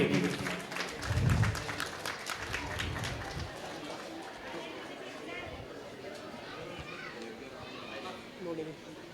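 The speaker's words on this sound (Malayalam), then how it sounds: "നല്ലൊരു കൈയടി." An audience claps at a school platinum jubilee at an A.L.P. school in Padanna Thekkekad, Kerala. A burst of applause at the start fades into crowd chatter and children's voices.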